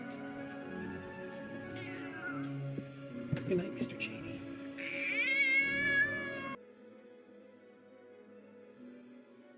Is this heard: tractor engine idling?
no